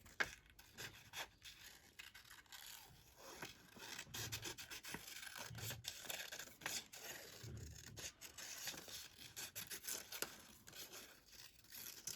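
Paper being cut into a coral shape for an ocean-themed craft: soft, continuous rasping and scratching with small irregular snips, close and quiet, with no talking.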